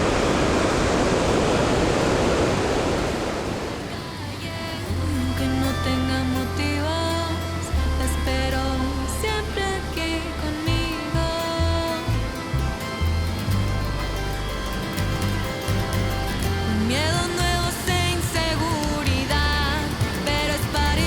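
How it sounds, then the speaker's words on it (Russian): The Iguazu waterfall gives a loud, dense, hissing roar for about four seconds before music takes over and covers the rest. "Отсюда, конечно, отличный вид открывается на этот огромный водопад."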